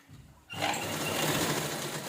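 A sewing machine stitching blouse fabric starts up after a brief pause and runs as a loud, steady, close whir with no talk.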